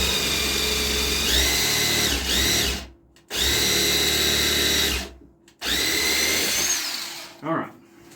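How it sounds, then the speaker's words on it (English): An impact driver drilling into wood whines loudly in three sustained bursts, its pitch rising as it bites, with short pauses between, then a brief rattle at the end. "We're going to drill our hole here."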